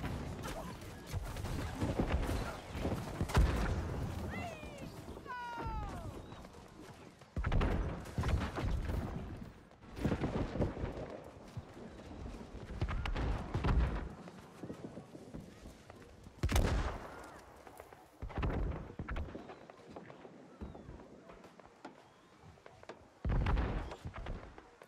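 Siege cannon fire in the video game New World during a war battle, with booming shots and bursts of combat noise repeating irregularly amid a busy, distant-sounding fray.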